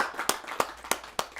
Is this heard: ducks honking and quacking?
no